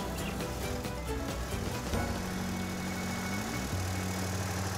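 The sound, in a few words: tractor engine running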